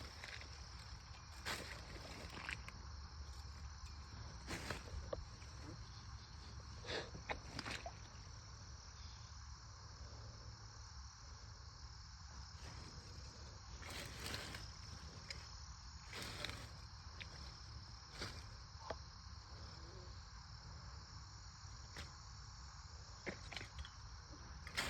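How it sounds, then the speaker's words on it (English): Crickets and other insects drone continuously through the night air, a dense, even chorus with occasional sharp ticks and rustles close by. "A lot of bugs in here."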